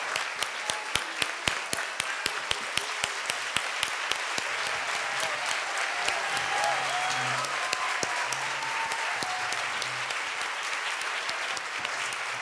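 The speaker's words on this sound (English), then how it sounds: "You can have a standing applause, I think, for these families for being here today." Sustained standing applause from an audience at a family strengthening summit, a steady dense wash of many clapping hands that continues loud and unbroken for several seconds.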